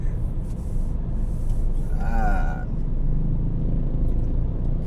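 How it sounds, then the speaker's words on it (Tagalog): Dense road traffic near BGC in Metro Manila, a steady low rumble of idling and slowly passing cars with a brief rising engine or horn-like tone in the middle, continuous and close. "Talagang traffic talaga."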